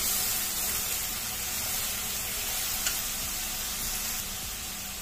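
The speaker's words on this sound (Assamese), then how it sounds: "ইয়াতে দিলোঁ আদা নহৰু পেষ্ট এচামুচ ৰুকি দিব পাৰি মই মানে পেষ্ট কৰি দিলোঁ দি গোটেইখিনি ভালদৰে লৰাই দিছোঁ" Onions frying with ginger-garlic paste while being stirred in a pan, a loud continuous close sizzle with faint scraping movements and no talking.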